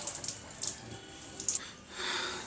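Water flows and splashes from the outlet of a worn, dirty carbon filter in an RO water purifier, faint and close, with a few light spurts and drips before a steadier trickle.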